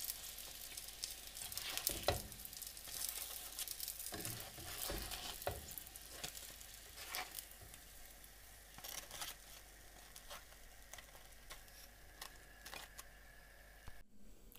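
Egg-dipped bread toast fries in a pan with a soft, steady sizzle and crackle, broken by occasional louder pops and scrapes, heard close and fairly quiet.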